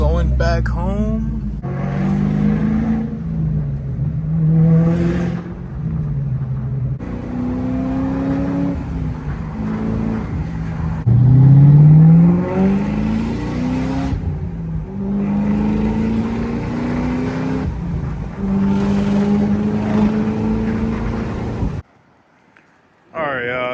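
A 2003 Mustang Cobra on new R888 tires driving down the road, its engine rising and falling through repeated gear changes under heavy rumble. A voice speaks at times, and the clip ends with a brief drop to near silence.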